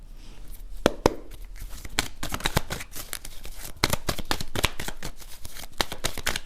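Steady, close riffling and slapping of tarot cards being shuffled, a continuous papery flutter with sharper snaps throughout, no talking.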